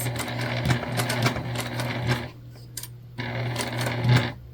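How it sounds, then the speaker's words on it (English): A sewing machine stitches around the corner of a crossbody bag in a steady, fast mechanical whir with rhythmic ticking. It pauses briefly and then resumes at the same pace. "Trying to get that continuous sew on the corner is going to give you a really nice finish in those corners."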